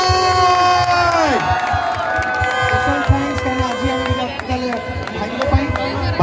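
Crowd cheering and whooping with scattered clapping at the Gajapati Utsav stage in Paralakhemundi, a loud, steady roar of many voices under an amplified announcer and music.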